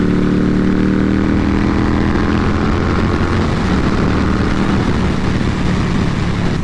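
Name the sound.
wind noise riding a 2020 Indian Scout Bobber motorcycle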